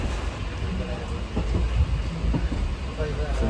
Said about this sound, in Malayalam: ഇപ്പം ട്രെയിൻ എടുത്തിട്ടുണ്ട് കേട്ടോ മൂവ് ആവുന്നുണ്ട്